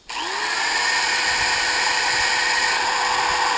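A power drill running off a power inverter whirs steadily at full speed after a quick spin-up, a loud continuous motor whine with no talking.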